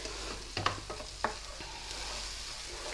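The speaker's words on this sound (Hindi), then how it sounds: "अब थोड़ी देर इसे भुनेगा" Masala with fenugreek fries in a pan for egg curry, a constant hiss of sizzling oil broken by a few quick stirring scrapes early on.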